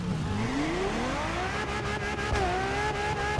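A car engine in the racing game The Crew Motorfest, revving up through rising pitch with a brief shift dip, continuous and moderately loud with faint tire noise.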